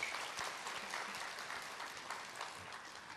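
A concert audience at a 2007 Cantonese opera solo concert at Ko Shan Theatre claps together, a soft, somewhat distant patter of many hands that stays steady and slowly fades.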